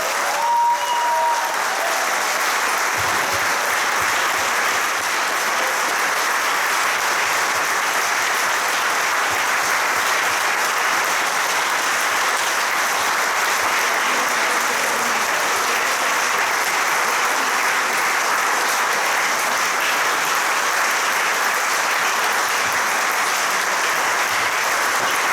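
Sustained applause from a large crowd at a pastoral consecration ceremony, steady and full throughout, with no pauses.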